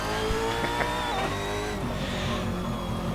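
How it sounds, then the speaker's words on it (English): A mid-mounted V8 engine of a Brabham BT62 race car in the game Assetto Corsa at Laguna Seca revs loud and close, a steady growling roar with shifting pitch and no voices. "Actually sounds very similar to a V8 supercar"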